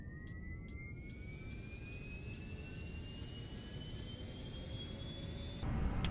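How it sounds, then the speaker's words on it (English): Airbus A350-1000 auxiliary power unit, a small tail-mounted jet, spooling up in a flight simulator with a steady rising whine over a broad rushing roar that grows louder near the end. "That's the sound of a small jet located here at the tail section known as APU or Auxiliary Power Unit."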